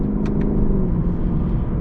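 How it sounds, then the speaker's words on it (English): A 2020 Lexus LC 500 engine gives a loud, close rumble through a quick downshift, lasting barely two seconds. "Oh my gosh, those downshifts are ridiculous"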